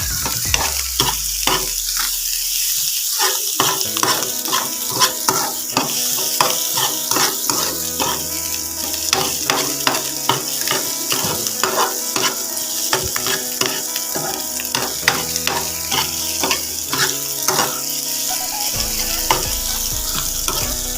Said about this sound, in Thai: คั่วไปเรื่อยๆครับ เพื่อน ๆ ไม่เกิน 3-4 นาทีนะครับผม ไข่ก็เริ่มสุกมะพร้าวก็เริ่มสุกนะครับผม